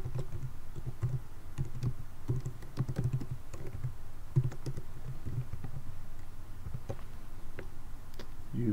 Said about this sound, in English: and you're ready to start typing.